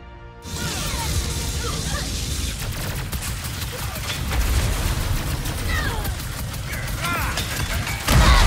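Rapid weapon fire from the video game Ratchet & Clank: Rift Apart, a dense, loud barrage of gunshots and impacts running throughout, with a heavier burst near the end.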